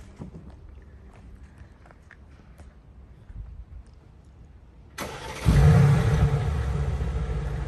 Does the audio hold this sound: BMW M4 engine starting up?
yes